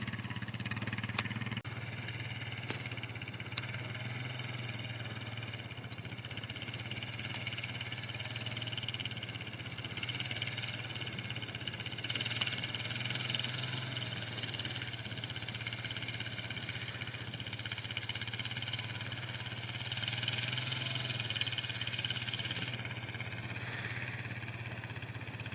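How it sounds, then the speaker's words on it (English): ATV engine droning steadily while pulling a makeshift drag across a seeded whitetail food plot in Minnesota, a constant mid-pitched hum with slight swells in throttle and no talking. "So Dad's on the ATV, and we made a makeshift drag."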